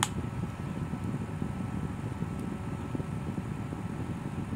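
Small electric fan running, a steady, even whirring hum that stays constant throughout with no speech.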